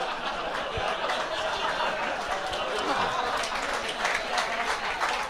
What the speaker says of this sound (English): An applause for a dementia joke, all right.